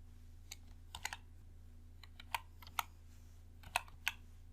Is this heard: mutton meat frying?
no